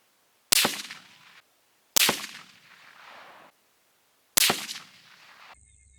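Three sharp, loud gunshots from a CVA Scout pistol chambered in 6.5 Grendel, fired at a 100-yard range, each a hard crack with a short decaying tail, spaced more than a second apart, with no talk.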